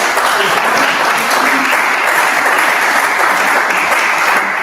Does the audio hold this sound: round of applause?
yes